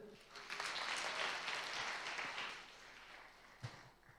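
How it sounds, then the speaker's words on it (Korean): A church congregation claps during a Korean-language sermon, a soft, fairly distant patter that swells briefly and fades out after a few seconds. "자, 박수 한번 쳐주세요."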